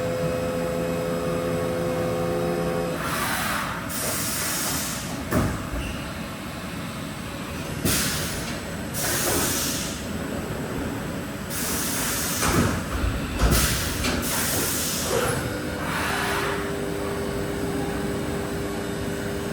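A Haas VF4SS vertical machining center with coolant-through spindle runs its spindle at 5,000 RPM, giving a steady machine whir and hiss broken by several loud bursts of air or coolant spray.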